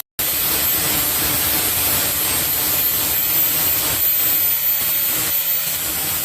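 A hand-held grinder sharpens a steel lawnmower blade, giving a loud, steady, broadband grinding hiss that starts abruptly and runs continuously, close up with no talking.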